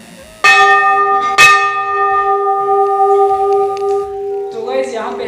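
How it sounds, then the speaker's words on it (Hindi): Two loud strikes of a large Hindu temple bell, each ringing out with long sustained metallic overtones, then fading under faint background voices near the end. "यहाँ पे घंटी कितनी बड़ी बड़ी लगे हुए हैं ना।"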